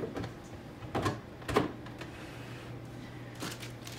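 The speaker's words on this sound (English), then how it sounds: "To open the printer, you have to press the red button." The printer of an Opti CCA TS2 analyser is opened with a red release button, giving a few sharp plastic clicks and snaps close by, then a quieter click after a pause, with no talk.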